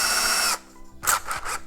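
A cordless drill whirs at high speed in a loud burst, stops briefly, then spins up again in short revving pulses, close by with no talk.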